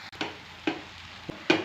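Chopped wheat chapati is stirred into a pan of frying egg masala for egg kothu parotta. A few soft, spaced scrapes and stirs sound over a faint, steady sizzle.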